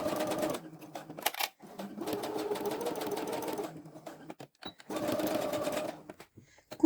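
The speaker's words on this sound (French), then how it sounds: "Réalisons une couture à 1 cm du bord." A sewing machine stitches a fabric seam about 1 cm from the edge in three bursts of rapid, even mechanical whirring, separated by short pauses with small clicks, close and fairly quiet.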